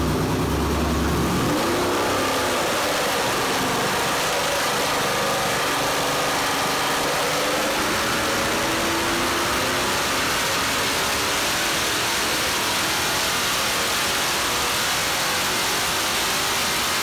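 A 6.2 liter LS3 crate V8 on an engine dyno with a Holley High Ram intake, starting low then winding up in a long sustained rev that climbs steadily in pitch, loud and alone.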